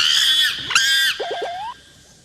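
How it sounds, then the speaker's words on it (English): A chimpanzee lets out loud, shrill screams in a rising and falling burst, followed by a few short hooting calls that climb in pitch, close and alone. "sign language isn't the only way chimps communicate. They also bark, and grunt, and scream."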